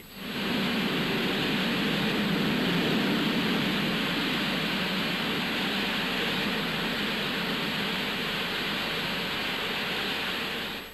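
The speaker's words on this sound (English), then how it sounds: "the valve was maneuvered over the jet, allowing the gas to rush upwards through its open orifice" Gas rushes upward through the open orifice of a valve set over a jet on a drilling rig, a loud, steady roaring hiss that holds for about ten seconds with no talk.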